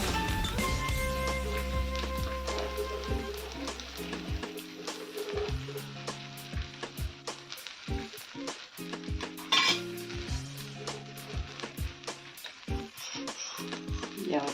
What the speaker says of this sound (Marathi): हा बघा आपल्याला टाकायचा आपला पराठा याच्यावर छान खरपूस आता भाजून घ्यायचा आहे